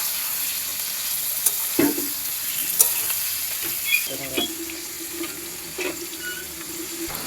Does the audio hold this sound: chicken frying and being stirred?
yes